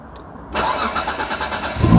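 A Mitsubishi FTO that has been sitting unused cranks over, a sudden rough rhythmic churning that begins after a quiet moment and carries on loud and close.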